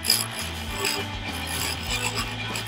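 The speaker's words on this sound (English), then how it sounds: "Let me hit this one more time with the tool just to see. Just going to shave it." A lathe tool shaves a spinning Katalox wood pen blank, a steady close rasping scrape with a faint mechanical hum beneath and no talk.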